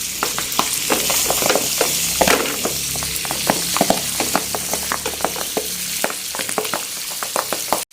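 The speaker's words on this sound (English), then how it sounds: "At some point, you will need to replenish the butter, cooking the last 3 pieces." Milkfish fillets with skin on fry in butter in a pan, a steady loud sizzle with frequent crackling pops and spatters throughout, running continuously until an abrupt stop at the end.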